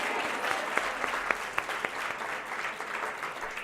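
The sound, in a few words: audience applause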